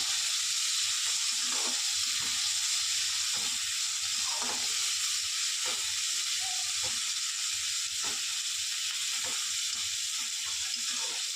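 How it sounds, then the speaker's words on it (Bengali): Chopped tomatoes fried with snakehead fish in a pan, a loud continuous sizzle broken by regular scraping stirs of a spatula, heard close and alone. "এবার দিচ্ছি কুচনো টমেটোগুলো যেগুলো রেখেছিলাম সেগুলো দিয়ে দিচ্ছি। এবার এটা দিয়েও একটু নাড়াচাড়া করে নিই।"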